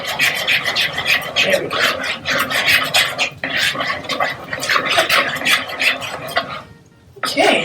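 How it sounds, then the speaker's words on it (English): Herb bread batter ingredients are stirred together in a bowl, giving rapid repeated scraping and knocking strokes throughout, close and fairly loud, with a short spoken phrase partway through. "Alright, so I mix it all together."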